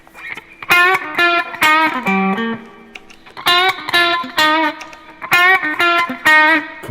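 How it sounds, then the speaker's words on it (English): Electric guitar on a thicker, driven humbucker bridge pickup, repeating a riff of strummed chord stabs separated by short pauses, loud and up front. "Now let's listen to it as a humbucker."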